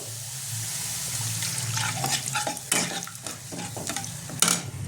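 Water from rinsing the mixer jar poured into frying masala with Kashmiri red chilli powder for rui fish, a close, steady sizzle with stirring and scraping through the short stretch.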